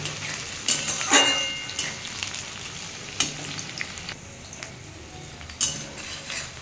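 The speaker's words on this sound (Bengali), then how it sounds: "পেঁয়াজটা আমি লাল লাল করে ভেজে নেব।" Onions fry in a pan for a home-style mutton recipe, a steady soft sizzle broken by scraping stirs and light clinks of a utensil against the pan, with no talking.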